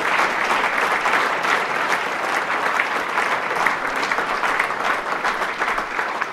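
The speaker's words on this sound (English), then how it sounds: "Can we give a round of applause for Ryan?" Audience applause at a lung-function charity event, steady dense clapping throughout, loud and close with no break or speech.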